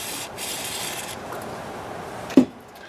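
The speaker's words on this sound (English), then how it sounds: "Just put a little carb cleaner." Carburetor cleaner sprayed onto a Homelite chainsaw carburetor during a rebuild: a couple of short aerosol hisses close by, then a quieter stretch and a single sharp knock near the end.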